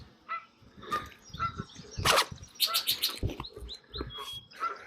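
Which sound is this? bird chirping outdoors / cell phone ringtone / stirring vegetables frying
bird chirping outdoors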